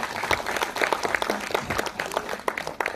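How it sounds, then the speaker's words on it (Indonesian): An audience at a school education fair applauds warmly, a steady patter of many hands clapping close by for a few seconds with no talk over it. "Boleh tepukan yang meriah dulu."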